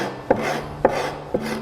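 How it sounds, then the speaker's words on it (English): Hand scraper drawn along the edge of a sculptured wooden table top, three short, crisp rasping strokes spaced about half a second apart, close and moderately loud, with no talking. "And I've got a scraper here."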